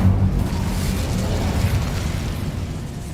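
An Incendio fire spell goes off in a Harry Potter video game, a loud, dense whooshing burst of flame that roars steadily for the whole stretch with no talking.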